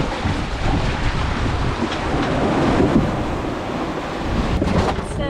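Wind buffets the microphone in a steady, rumbling gust aboard a sailboat anchored in rolly swell near an island, loud and close with no clear voices.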